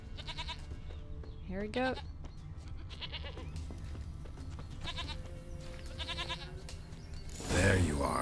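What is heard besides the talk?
goat bleating in the video game The Witcher III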